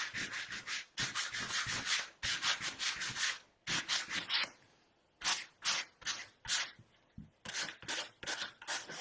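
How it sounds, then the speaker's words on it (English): Sanding on stained wood for a fall decor craft: brisk, close strokes of abrasive scrubbing in irregular bursts, with a short pause midway before the rubbing resumes. "Sand those off."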